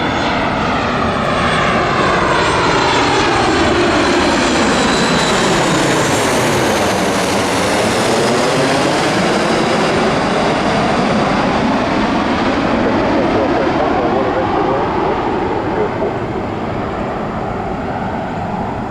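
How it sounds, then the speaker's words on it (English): A Frontier airliner with Neo engines passes close by, a loud steady jet roar that rises and falls in pitch as it approaches and recedes, with no talk. "Those look like Neo engines."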